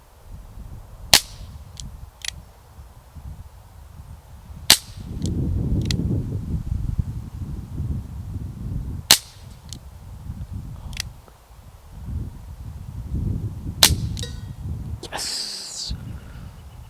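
A Webley MK VI revolver fires single-action shots at a cowbell target outdoors, several sharp isolated cracks spaced seconds apart over a low rumbling background.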